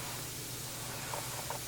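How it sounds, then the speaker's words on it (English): Spray can hissing a continuous fine mist of red top coat onto a quarter-scale Deadpool figure, a steady soft hiss throughout. "So I'm going to spray the top color on here."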